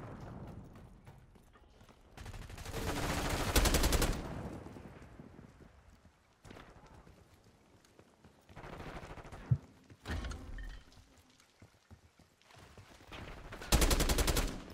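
Gunfire from a shooting video game rattles out in loud bursts, one long volley early on and another near the end, with quieter in-game sounds between.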